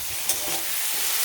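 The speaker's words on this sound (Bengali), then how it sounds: "ঢাকনাটা উঠিয়ে নাড়াচাড়া দিয়ে এবার মশলা দিয়ে দিই।" Vegetable curry of pumpkin, squash and potato being stirred in a pan with the lid lifted, a steady soft frying hiss with a brief scrape near the start, close and fairly quiet.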